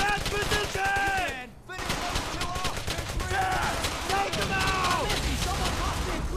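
Dense, rapid gunfire and machine-gun bursts fill a World War II battle in Brothers in Arms: Hell's Highway, loud and continuous with a short lull, while voices shout over the shooting.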